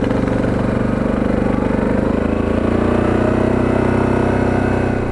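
A 1997 Yamaha Big Bear ATV engine drones loud and close with a steady throb, its pitch rising slightly as the four-wheeler pulls away, with no voices.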